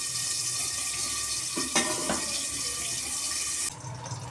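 Cooking oil streams into a pan for a few seconds, a soft continuous hiss and trickle close by in a home kitchen, ending abruptly with a faint clink.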